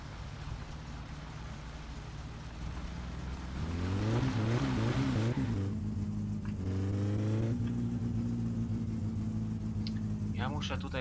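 A car engine in My Summer Car drones low, then slowly builds in pitch as it labors through a quarter-mile run, steady and moderately loud while someone talks over it.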